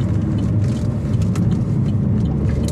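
A 2017 Opel Corsa OPC hot hatch with 207 hp accelerates on a highway, heard from inside as a steady, loud engine drone under road and wind rumble, with no talking.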